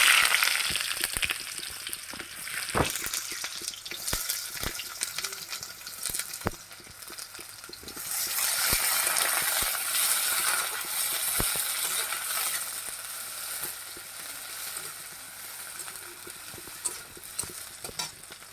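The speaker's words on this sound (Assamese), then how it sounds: "এতিয়া ইয়াত মই তেলখিনি গৰম হৈ গৈছে, মই পিঁয়াজখিনি দি দিম।" Onions dropped into hot oil in a home kitchen, cooking for a dhekia fern and egg stir-fry, sizzle steadily with scraping stir strokes and occasional sharp clicks, close and moderately loud without any talk.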